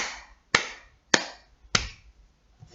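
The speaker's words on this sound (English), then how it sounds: "The first thing to do is to just read through them and clap along." Three sharp, evenly spaced hand claps in a slow steady rhythm, close and clear, each with a short decay, and a faint fourth tap at the end; no talking.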